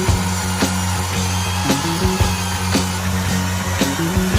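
Inexpensive concrete saw fitted with a 16-inch wood ripping blade, running as a loud, steady motor drone with a rhythmic repeating pulse, close by and without speech.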